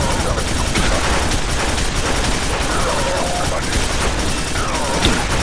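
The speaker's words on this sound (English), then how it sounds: "So we're getting an extended clip for the machine gun" Rapid machine gun fire in the shooter game Quake 4 with a Quake 2 mod, dense continuous gunfire with someone talking underneath.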